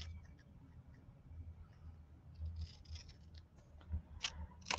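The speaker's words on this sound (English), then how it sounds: "I'm just going to cut it down some." Scissors cutting paper down to size for a handmade mini book, producing a few soft snips and rustles close by over a faint room hum, with no speech.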